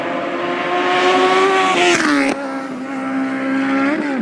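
Loud motorcycle engine revving hard up close, a harmonic snarl that climbs, drops sharply, then swells again.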